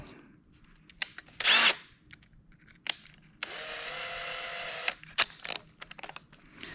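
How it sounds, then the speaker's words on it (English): A power drill with a 3/16 bit whirs in short bursts, then runs steadily for over a second as it bores through pine, followed by scattered clicks and handling noises. "Now I'm going to do the 3/16 drill bit"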